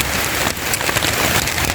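A downpour drums hard and continuously outdoors on a wet hunting outing, thick close hiss with uneven spatters of drops.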